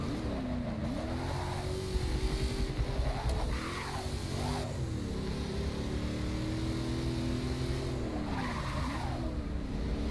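A Ford Boss 302 Mustang in Forza Motorsport 6 races with a steady engine drone that rises and falls through shifts, while tires squeal and skid through corners, loud and continuous, with no talking.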